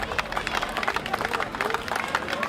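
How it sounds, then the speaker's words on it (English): Crowd applause at a May 2017 fire prevention demonstration honoring the fire chief, a steady wash of many hands clapping for a few seconds with background chatter mixed in. "Let's give Chief Woody a round of applause for all the hard work and dedication."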